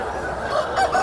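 Poultry calling at the busy Gokavaram weekly market, a few short honking, clucking cries standing out over a steady crowd murmur, fairly close and moderately loud.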